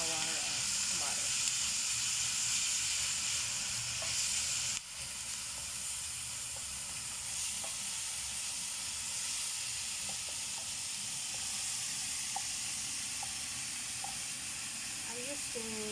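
Minced meat frying in a pan for a homemade fresh tomato and onion pasta sauce, a steady close sizzle and hiss that runs unbroken throughout, with faint clinks now and then.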